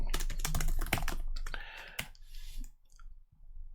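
Rapid clattering keystrokes on a computer keyboard, close and uneven, with a burst of clicks followed by a few sparse taps as the typing trails off.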